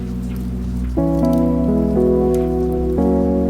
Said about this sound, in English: The rain sounds like a story.